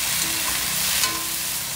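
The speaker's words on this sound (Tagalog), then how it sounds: "Igigisa natin yan sa oyster sauce" Banana blossoms and shiitake mushrooms sauté in a pan, giving a brief burst of close, steady sizzling with faint stirring scrapes.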